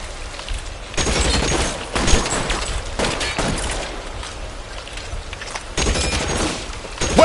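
Gunfire in the video game L.A. Noire comes as loud, rapid bursts of shots separated by brief lulls, each volley sharp and close.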